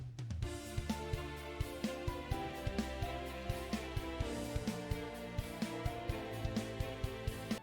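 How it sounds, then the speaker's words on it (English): A bridge section of an orchestral video game field theme, its lead on French horns, piano and violin over a steady, rhythmically pulsing accompaniment, soft and continuous with no voices. "I threw in this lead on French horns, piano, and violin."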